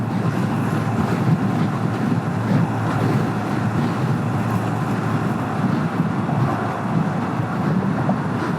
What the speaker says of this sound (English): Ooh, it's getting windy over here.